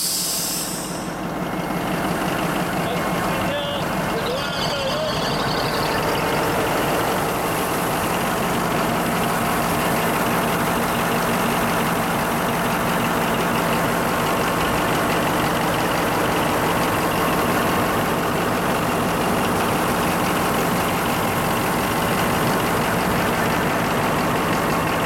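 A Cat D10 bulldozer diesel engine idling during a fire suppression system demonstration, a loud steady low rumble with constant hiss throughout, unchanging and close.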